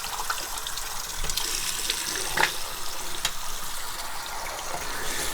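Tap water rinsing the pipes of an Eheim Experience 250 aquarium filter, a steady splashing gush with soft irregular spatters, moderately quiet and free of talk.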